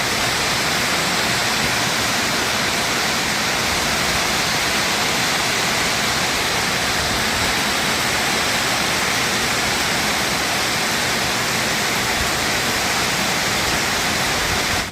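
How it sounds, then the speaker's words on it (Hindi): Steady rain falls in a dense, unbroken hiss that stays loud and even throughout, with no voices or other sounds. "बारिश दोबारा फिर से शुरू होगी"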